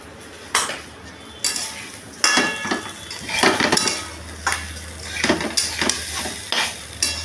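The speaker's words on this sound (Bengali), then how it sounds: "চালটাকে ভালো করে নাড়াচাড়া করতে হবে, ভাজতে হবে" A metal spoon scrapes and clanks against a pan as rice is stirred and fried, sharp irregular knocks over a low steady cooking hum, with no talking.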